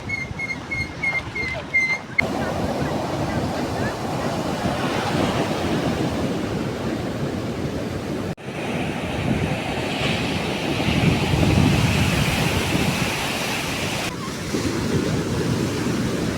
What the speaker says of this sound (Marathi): लाटा बघा यार कसल्या येत आहेत एकदम मोठमोठ्या